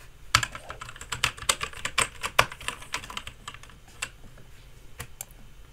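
Typing on a computer keyboard, close and clear: a quick irregular run of clicking keystrokes that thins out toward the end, with no talking.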